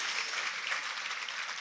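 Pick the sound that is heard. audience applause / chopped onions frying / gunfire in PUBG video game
audience applause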